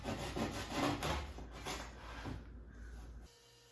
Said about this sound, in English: I can finish trimming out the last corner with the fine cut saw